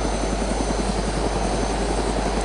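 In the DayZ video game, a helicopter in flight gives a continuous pulsing rotor beat over a dense engine roar, loud and up close without any voices.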